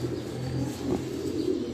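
A champion racing pigeon, a 2016 bird, coos softly and low in a short, faint murmur close to the microphone over a steady background hum.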